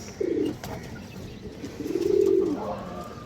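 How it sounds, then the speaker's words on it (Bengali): A green-necked female Giribaj pigeon coos close by: one short note, then a longer rolling coo a moment later, set against low background hum. "খুব সুন্দর একটা সবুজ গলা মাদি কবুতর দর্শক"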